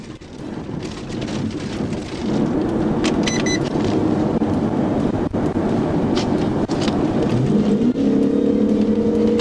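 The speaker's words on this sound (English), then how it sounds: "the driver, later identified as Stephen Franklin, refused to comply and accelerated, even entering oncoming traffic" A gray Buick SUV accelerates hard through traffic during a police pursuit. A loud, steady roar of engine and road noise fills the clip, and a rising engine tone climbs near the end. No one speaks.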